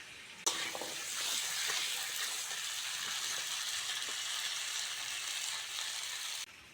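Pieces of taro (kochu) fry in hot oil in a pan, a steady close sizzle that starts abruptly and hisses evenly for about six seconds before cutting off, with no talking.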